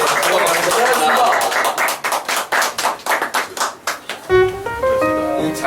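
A room full of people applauds to close a community talk event, loud dense clapping that thins into scattered claps before a chime-like melody rises at the end.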